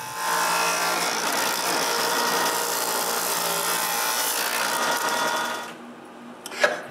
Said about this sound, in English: So I return to the sander.